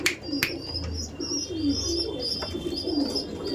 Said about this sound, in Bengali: দেখুন এটা মঙ্গলজুলি পায়রা